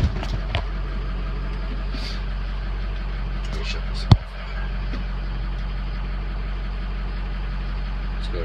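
A truck's diesel engine idling after a cold start during an injector check, with a steady low rumble throughout, a sharp clank near the middle and nearby voices talking over it.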